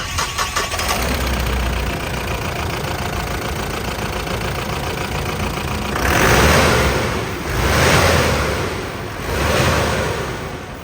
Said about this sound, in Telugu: ఇప్పుడైతే ఒకసారి ఇంజిన్ స్టార్ట్ చేస్తాను